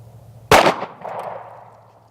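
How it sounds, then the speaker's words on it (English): A Ruger LCP pocket pistol fires a single G2 RIP .380 Auto round, one sharp loud report with a short ringing decay, heard alone over a steady low hum. "We're gonna see what our little tiny baby LCP can do with this RIP ammunition."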